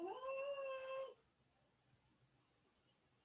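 A dog lets out a single short howl for about a second, rising then holding a tonal wail, followed by a quiet room with faint background hum.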